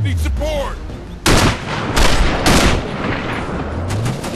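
Sniper rifle gunfire in the Sniper Ghost Warrior video game: several sharp, loud shots crack out in quick succession over game sounds, with a voice speaking at the start.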